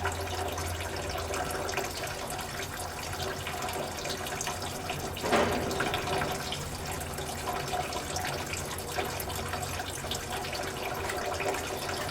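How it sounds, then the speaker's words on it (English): Diesel fuel drains from the fuel water separator on a dump truck, a steady close liquid trickle and splash with a brief louder gush midway, no talk. "what this is your fuel water separator. So what I do is drain some of the diesel fuel out, just like that."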